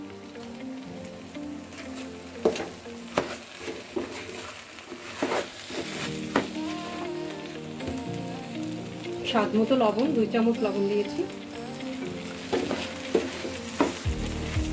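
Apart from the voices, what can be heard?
rice frying in a pot with garam masala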